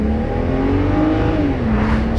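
A car engine pulls hard under load, rising in pitch, then drops briefly at a gear change and climbs again. The smooth, close, continuous run is heard without talk.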